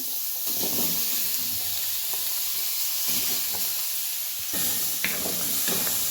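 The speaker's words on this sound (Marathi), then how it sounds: "आता बटाटा पण भाजून घेऊया" Potatoes fry in oil in a pan for a sprouted moth bean and potato curry, a loud, close, continuous sizzle and hiss with occasional stirring scrapes.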